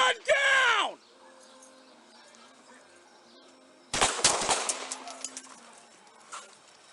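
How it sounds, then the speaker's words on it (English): Police gunshots fired at a suspect ring out as a loud burst opening the scene, followed by a second volley of sharp, rapid cracks, with shouting mixed in. "Shots fired. Suspects down."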